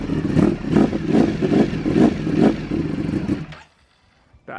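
A 2023 Ducati Panigale V4 fitted with a clear clutch cover blips its engine in a series of sharp, loud revs with dry clattering, then cuts off abruptly into near silence before a faint thump at the end.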